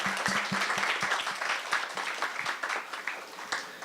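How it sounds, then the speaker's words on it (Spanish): Audience applause at a university humanities and audiovisual media panel, steady dense clapping throughout with a few sharper nearby claps at the start. "Le damos por favor un fuerte aplauso."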